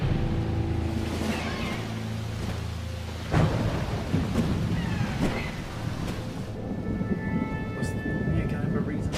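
A thunderstorm rumbles through a video game trailer shown in a Nintendo Direct, with a deep thunder roll and rain-like wash under music, while people chat over it.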